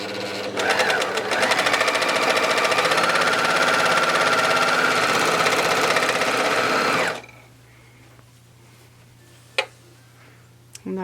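An overlocker sewing machine stitching fabric, a loud rapid mechanical whir with fast ticking for about seven seconds, then it stops, leaving quiet room tone and a few small clicks.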